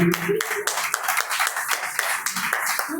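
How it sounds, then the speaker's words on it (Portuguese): Church congregation clapping hands together in worship, a steady run of rhythmic claps at moderate loudness with a voice singing or calling over the start. "quem crê bate palmas e glorifica o nome de Jesus"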